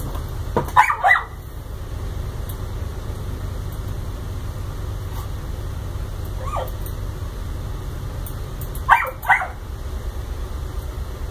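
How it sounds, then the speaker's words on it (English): A dog barks in two short bursts near the start and again toward the end, with a faint yip in between, at a moderate distance over steady low background hum in a room. "Dogs thinking it's their world."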